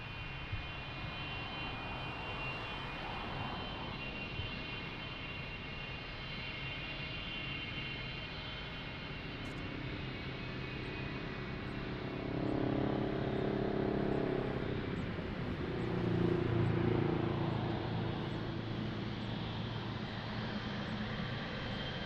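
A heavy jet airliner taxies at Lisbon Airport, a steady distant engine roar that swells louder in the second half as the aircraft draws nearer, with no talk over it.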